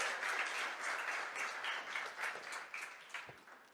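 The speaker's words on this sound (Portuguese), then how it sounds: "Você pode aplaudir o Senhor?" A church congregation applauding during a sermon, a steady broadband wash of many hands clapping at moderate distance that gradually thins toward the end.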